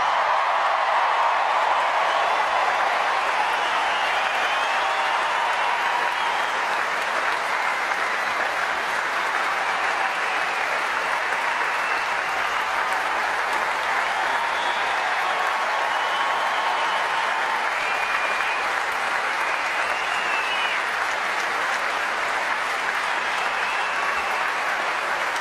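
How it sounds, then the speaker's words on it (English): Sustained, loud applause from the Wimbledon crowd greeting the 2008 Junior Girls champion, steady broadband clapping with no break. "Soaking up the applause, soaking up the moment, Laura Robson."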